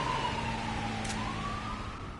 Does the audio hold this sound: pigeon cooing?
no